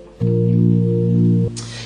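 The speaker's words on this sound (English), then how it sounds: "So if you pull out an 8-foot stop," A Hammond organ holds a single steady note with the 8-foot drawbar pulled out, giving a rich, sustained hum that lasts just over a second and then cuts off cleanly, loud and close with no talk.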